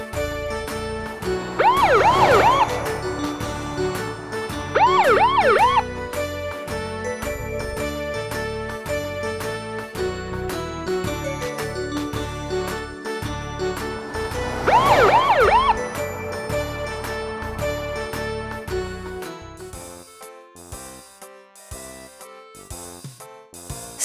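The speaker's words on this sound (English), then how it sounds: "Police car." Three short bursts of a warbling police car siren over a bright, steady musical backing, which thins out near the end.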